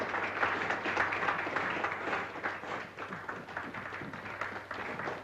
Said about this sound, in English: Does the applause warrant an encore?